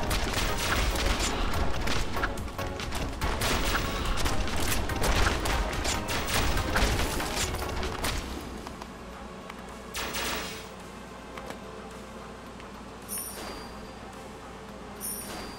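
Turrets fire in the PC game Original Journey with dense, rapid bursts of gunfire and booms, loud at first and then thinning to sparser shots and a quieter background.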